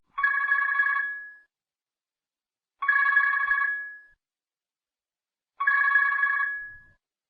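A telephone rings three times in a steady pattern. Each ring is about a second of bright trilling bell, separated by long silent gaps, and the sound is clear and close with nothing else around.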